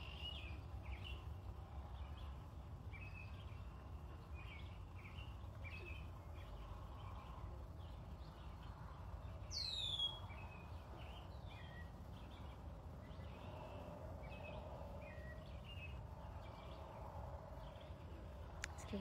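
Several small birds sing and chirp outdoors in a repeated series of short, bright calls, with one sharper rising call standing out near the middle, all over a steady low background rumble.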